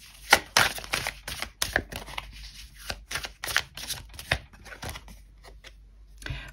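Tarot cards are drawn and shuffled during a reading, giving a string of sharp, close riffles and snaps in an irregular rhythm, fairly soft overall, with quiet gaps between bursts.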